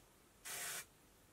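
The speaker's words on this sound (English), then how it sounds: "I'll spray from quite far" One short, steady burst of Redken Root Fusion temporary root colour spray, misted from a distance onto hair, a broad hiss lasting under half a second with quiet before and after.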